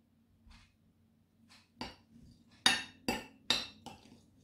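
Nuts tipped into a keto halva mixture in a bowl, giving a series of sharp clinks and rattles against the bowl, several distinct close hits spaced apart, with no talking.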